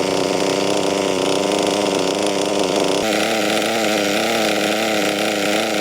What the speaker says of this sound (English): I just love the noise and the smell of Nitro and petrol.